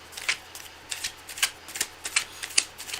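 A deck of tarot cards is shuffled by hand, producing a series of crisp riffling bursts about every half second, close and fairly quiet, with no voices.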